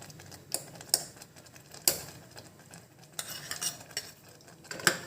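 Black kavuni rice sweet pongal is stirred with added cashews, raisins, dal and cardamom, giving intermittent close scraping and clinking of a spoon against the pot, with a few sharp louder knocks.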